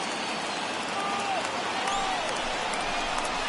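Stadium crowd noise from MLB The Show 21, a sustained broad roar of a large standing baseball crowd cheering, steady and loud throughout with no pauses.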